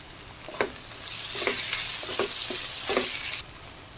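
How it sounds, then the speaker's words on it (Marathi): Onion with ginger-garlic paste and green chillies frying in a pan for masale bhaat, a continuous close sizzle broken by several spoon stirs and scrapes, with no talking. "कांदा थोडा परतला गेला आहे आता त्यात ही आलं लसणाची पेस्ट आहे ती टाकून घेते"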